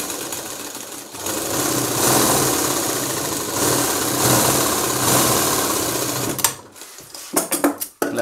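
A sewing machine stitches the lining of a maggam work blouse back, running in a steady close whir for several seconds before slowing into a few short uneven bursts and stops.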